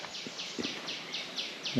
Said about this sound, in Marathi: वेगवेगळे पक्षी ओरडतात आहे इकडून